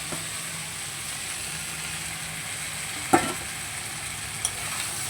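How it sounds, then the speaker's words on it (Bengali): Prawns sizzle and fry while being stirred through a spiced masala in a pan, a steady close hiss with a couple of brief scraping clinks from the ladle. "এবার ভেজে রাখা চিংড়ি মাছগুলোকে দিয়ে দেবো"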